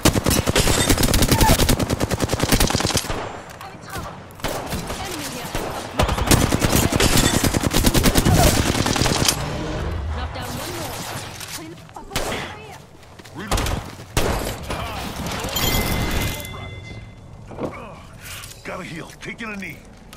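Gunfire in Apex Legends, Season 6, rattles in long loud automatic bursts with mechanical clicks and reload clatter between volleys, close and continuous, with a voice talking at points.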